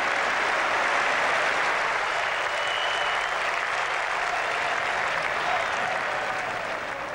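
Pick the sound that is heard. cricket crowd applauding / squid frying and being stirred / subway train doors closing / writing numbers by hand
cricket crowd applauding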